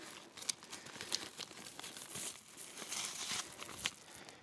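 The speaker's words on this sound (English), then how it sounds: "Zip up the pouch." A homemade backpacking meal pouch is handled and sealed outdoors, giving faint, close crinkling plastic rustles with a few sharper snaps, and no voices.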